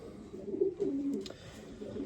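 Young pigeons coo softly and repeatedly at close range, low rounded calls rising and falling over a faint background hiss, with no voices present.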